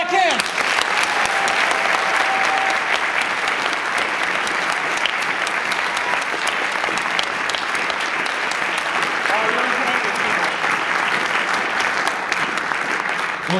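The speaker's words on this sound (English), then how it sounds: "We gotta do clapping." Sustained audience applause at an Upper Valley improv comedy show, dense and steady for the whole stretch at a full, even level, with faint voices mixed in.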